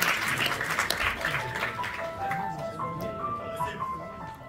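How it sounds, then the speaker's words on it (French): Audience applause at a festival closing ceremony, a broad wash of clapping through the whole stretch with music tones and some talk mixed in. "Donc je vous demande d'applaudir"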